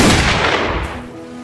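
A loud gunshot in the Roblox game Wild West, a single sharp blast up close that decays over about a second, heard alone.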